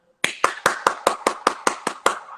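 Nine slow, evenly spaced hand claps ring out close and crisp, with a steady pause between each and no talking over them.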